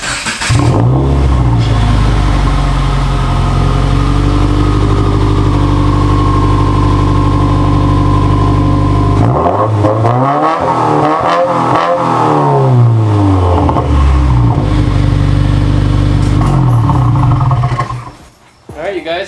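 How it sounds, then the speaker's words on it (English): A 2016 Subaru WRX engine cold-starts and settles into a loud high idle, then revs up and down in swelling roars before dropping back, heard up close with a brief quiet dip near the end. "I'm gonna give you guys a little cold start"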